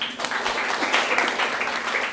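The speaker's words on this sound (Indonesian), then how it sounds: "Tepuk tangan dulu." A classroom audience applauds, dense steady clapping from many hands that stays loud and even from start to finish.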